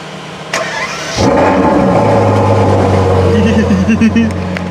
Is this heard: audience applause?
no